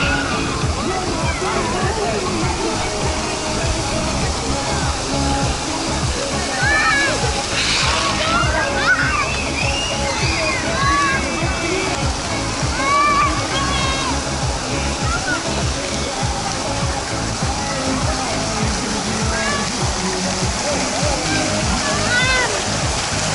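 A park fountain in Adler splashes and rushes continuously close by, a steady wash of falling water, with voices and children talking over it throughout.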